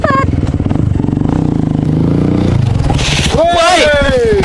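A motorcycle engine revs and putters close by while people talk over it, ending in a rough burst of louder engine noise and clatter.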